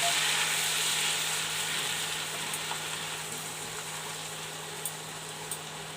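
Green chilli, garlic and ginger paste dropped into hot oil in a pan while making egg chilli; a loud, close, steady hiss that eases slightly over time, with a few faint pops and no talking.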